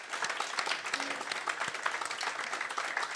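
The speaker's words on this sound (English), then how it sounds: "Big round of applause for BSides for having all these great talks." Audience applause fills a hall at the end of a BSidesTO 2015 security conference talk, a dense, even patter of many hands, loud and continuous throughout.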